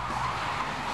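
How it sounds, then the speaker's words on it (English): A continuous tire screech from a car skidding, loud and close, holding steady with a rough engine rumble underneath, during stunt filming on London streets. "that's quite a big skid."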